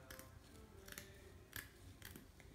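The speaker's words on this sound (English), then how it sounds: "I'm just going to cut a little more off" Scissors snipping through craft material for a Christmas DIY project, several separate quiet cuts in an uneven rhythm, close and faint with no talking.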